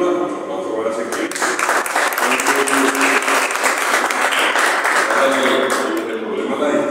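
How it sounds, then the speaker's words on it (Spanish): An audience at a poetry anthology presentation applauds Ezequiel with steady, full clapping that stays loud for the whole stretch, with voices audible underneath. "otro aplauso para Ezequiel"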